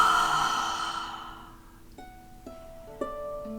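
A slow exhale during a breathing exercise: a long, soft, breathy sigh fades over about a second and a half. Gentle, sustained musical tones then enter one after another and hold.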